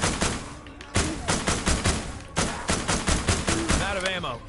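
Gunfire rattles through a zombie-survival shooter, The Walking Dead Destinies, in a rapid run of loud close shots with brief gaps, game sounds and a voice mixed in.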